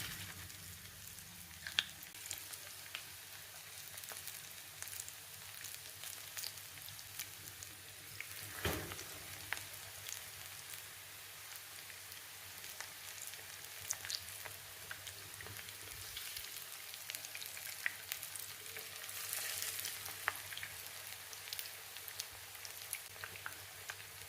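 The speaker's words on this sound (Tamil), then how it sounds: "சூடான எண்ணெயில் இதை போட்டுடலாம்." Bird's nest evening snack frying in hot oil, a steady soft sizzle and crackle with scattered pops running close and continuous throughout.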